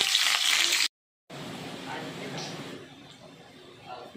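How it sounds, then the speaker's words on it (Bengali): Potatoes stirred in a spoonful of hot oil in a kadai for a yellow cauliflower curry, giving a steady close sizzle and scraping that breaks off briefly, then resumes a little quieter, with voices in the background. "তেল দেওয়ার পর এবার আলুগুলো নেড়ে নিচ্ছি"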